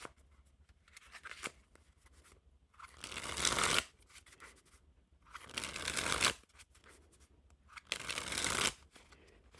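Theory11 Star Trek Dark Edition playing cards being riffle-shuffled up close, three bursts of rapid fluttering clicks separated by quieter handling and tapping of the deck.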